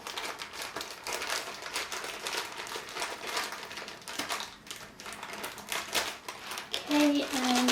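A delivery package is cut open up close with a run of quick scratchy slicing and crinkling sounds, fairly quiet, with a brief tonal squeak near the end.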